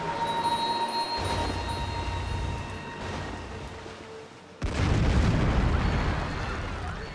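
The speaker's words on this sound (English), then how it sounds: "let's start bombarding Wittenberg" Battleships bombard a city in Civilization 5 Gods and Kings, heavy booming blasts with rumbling tails, one loud sudden impact cutting in midway over a continuous noisy background.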